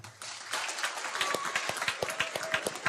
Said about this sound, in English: One last round of applause, please, for our athletes tonight.